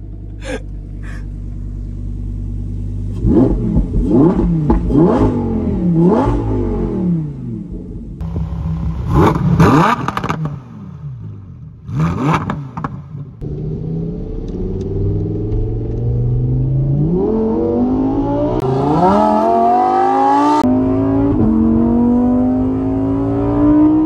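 A Lamborghini Huracán EVO Spyder's V10 engine revs hard in repeated bursts, then climbs steadily in pitch as it accelerates, roaring close by with no talking.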